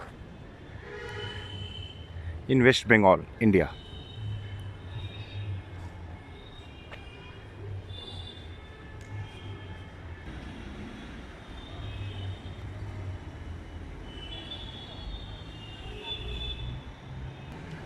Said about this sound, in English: Right now I am at Digha Railway Station